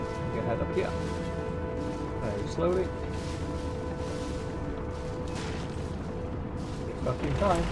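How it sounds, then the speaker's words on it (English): In the Brigador video game, dull booms and crashing explosions go off over a steady mechanical drone, scattered bursts of gunfire between them, moderately loud and continuous. "Then explosions"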